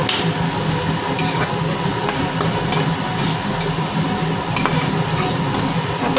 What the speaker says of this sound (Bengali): মশলাগুলো দিয়ে দিয়েছি এখন একটু মিক্স করে নেব